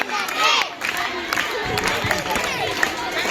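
High school girls at a career guidance session clap and cheer together in a dense, steady crowd burst that stays loud for the whole stretch, with voices shouting over the applause.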